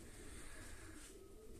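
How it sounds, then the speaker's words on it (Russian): Pigeons coo softly in a yard, a faint, low coo rising against quiet background noise, with no speech. "у меня голуби по двору ходят"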